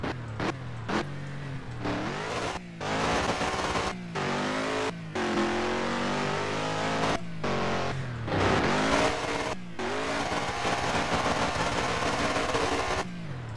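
A Dodge Charger engine in a Roblox driving game revs and accelerates loudly through repeated gear changes, with clear pauses between pulls and rising whines, heard alone.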